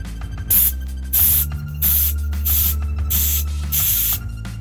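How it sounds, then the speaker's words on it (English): An Allen wrench pressed on the valve of a 1 lb propane tank releases air in five or six short, sharp hissing bursts, evenly spaced and close. "I'm going to release some of those air that's inside so that it has more room for the propane"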